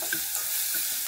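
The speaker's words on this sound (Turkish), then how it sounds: "İyice soğan iyice kavuralım." Onions and peppers fry with a steady sizzle in a pan while a utensil stirs them, scraping softly a few times across the short stretch; the cooking is close and moderately loud, with no one talking.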